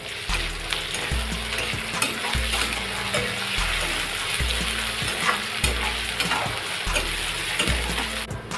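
Onions with ginger-garlic paste frying in a pan for pumpkin kofta, a loud continuous sizzle broken by regular rhythmic stirring strokes about once a second.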